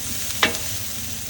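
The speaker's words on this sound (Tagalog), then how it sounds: "Add a little bit of oil to the hot griddle and saute onions until translucent" Onions sauté in oil on a hot griddle, giving a steady close sizzle with one brief scrape of stirring near the start.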